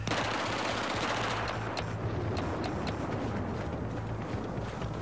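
Dense, continuous gunfire from the video game Battlefield 4, with rapid bursts and scattered sharper shots cracking over a steady loud battle bed, without a pause throughout.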